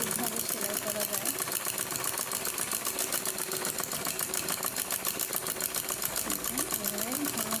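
A sewing machine stitches a bag made from a rice sack, running in a fast, steady mechanical rattle that stays close and loud throughout, with a voice faintly audible underneath.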